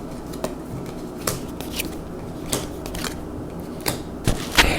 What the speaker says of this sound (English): I am going to take these meekling cards, shuffle them up, and then deal them out onto this enemy track right here